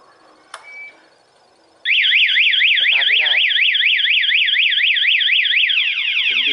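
After a faint click and brief beep, a CBR150i motorcycle's anti-theft alarm bursts in loudly, warbling rapidly up and down without pause, close by.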